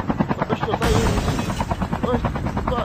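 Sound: helicopter in a video game

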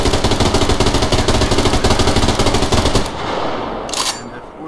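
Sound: machine gun firing in video game Survarium

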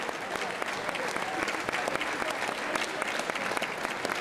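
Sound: applause for the fight winner

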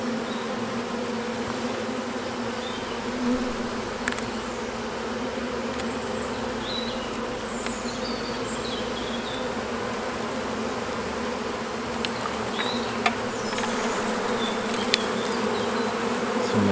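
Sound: honeybee colony buzzing inside a tree trunk

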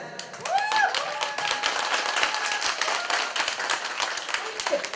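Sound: guests applauding at a family-joining ceremony

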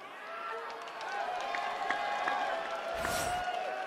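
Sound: crowd cheering at UFC 300 press conference

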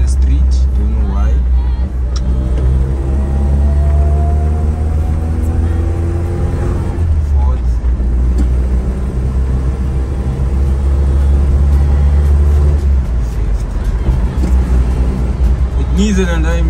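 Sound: car accelerating in third gear

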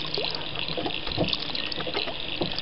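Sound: water poured into a bowl

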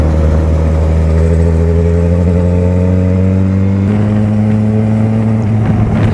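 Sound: motorcycle with modified exhaust revving

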